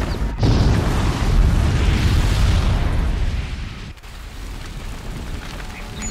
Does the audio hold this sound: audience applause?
no